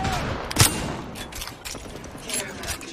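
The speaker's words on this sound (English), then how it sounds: "Grenade incoming." A grenade blast in a multiplayer shooter video game lands as one sharp, loud burst, followed by scattered crackling pops of gunfire and faint voices.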